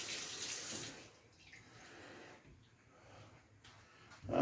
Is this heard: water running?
yes